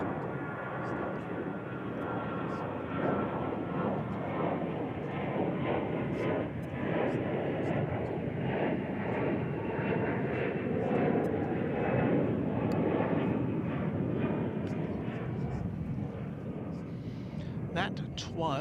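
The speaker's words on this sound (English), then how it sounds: "That was American Airlines Flight 1965 going to Phoenix, an Airbus A321." An American Airlines Airbus A321 jet bound for Phoenix passes at DFW Airport, a steady broad engine roar holding loud for the whole stretch, with faint voices in the background.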